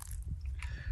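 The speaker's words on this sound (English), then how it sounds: "crunchy cereal with some oats in it as well" Mouthfuls of crunchy cereal with oats eaten at a morning wild camp in the Peak District, close, moist chewing and biting with a faint crunch, no talking.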